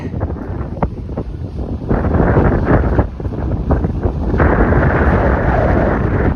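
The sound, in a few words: wind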